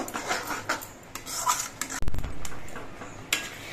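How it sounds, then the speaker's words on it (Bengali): The back of a ladle mashes tomato chutney in a pan, giving close, rhythmic scraping strokes and soft metallic clanks, with one heavier knock midway, alone and without speech. "হাতার পেছনটা দিয়ে টমেটোগুলো একটু গলিয়ে দিচ্ছি"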